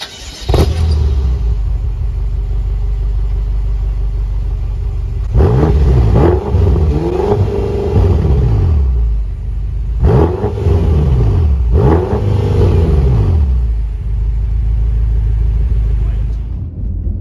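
A tuned 600hp twin-turbo V8 BMW F10 M5 rumbles deep and throaty at idle, then revs hard in several bursts, each swelling and falling away, with a brief voice at the start.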